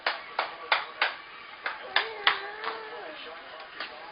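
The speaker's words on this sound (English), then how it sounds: "Can you clap, clap, clap," A baby claps small hands at home, about eleven soft, quick claps spaced roughly a third of a second apart, close to the microphone, with an adult's voice faintly underneath.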